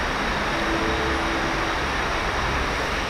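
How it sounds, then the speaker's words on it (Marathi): A train rolls slowly toward a station platform in Mumbai during a heavy monsoon downpour, a steady, continuous rumbling roar blended with dense rain hiss, moderately loud throughout with no voices. "ही ट्रेन आले खूपच स्लो येते रे."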